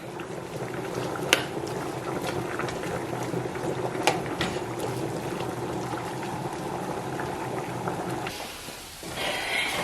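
Shrimp cook in a hot pan for Cajun shrimp fettuccine alfredo, giving a steady, close sizzle and crackle with a few sharper pops, the hiss changing near the end as the pan is moved.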